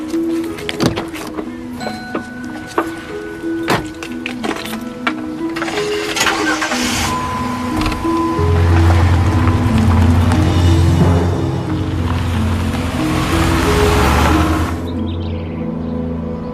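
A car engine cranks and catches, then idles and revs as the car pulls away, rising into a steady mid-pitched drive with some thumps and clicks near the start.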